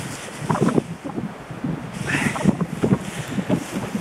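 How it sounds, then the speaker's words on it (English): Gusts of wind buffet a tautly tied-down tarp outdoors, producing irregular low flapping and rumbling bursts that rise and fall close to the microphone. "There's quite a bit of wind going against that tarp there"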